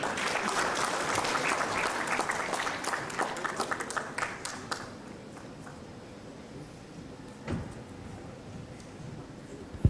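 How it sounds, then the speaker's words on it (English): Applause from guests at a school old-boys' society gala dinner: a loud round of dense clapping in a hall that fades out after about five seconds, leaving faint room noise and a few stray claps. "A warm round of applause for them one more time."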